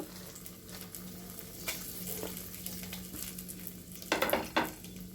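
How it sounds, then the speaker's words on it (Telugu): Dried red chillies fry in hot oil in a home kitchen, giving a steady close sizzle with a few sharper crackles and stirring scrapes near the end. No one speaks. "ఇప్పుడు నేను ఎండుమిర్చి వేపుతున్నానండి"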